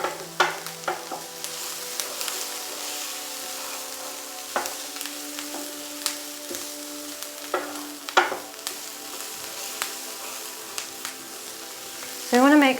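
Onion and garlic cook in a pan with a soft, steady sizzle, broken by the clicks and scrapes of stirring, close and fairly quiet.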